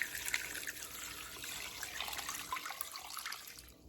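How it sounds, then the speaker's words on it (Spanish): Water poured into a pot of beef with onion, garlic and seasoning, a steady splashing stream that tapers off at the end. "y agregamos el agua"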